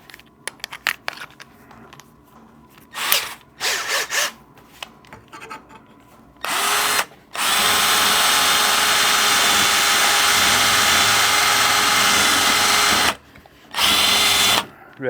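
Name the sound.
power drill with tapered hole drill bit drilling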